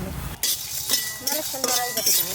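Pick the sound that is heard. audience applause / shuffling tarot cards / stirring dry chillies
stirring dry chillies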